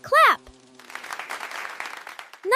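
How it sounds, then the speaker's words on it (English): Three quick hand claps in a bright indoor setting, crisp and close, following a short burst of children's voices. "Clap 3 times with me"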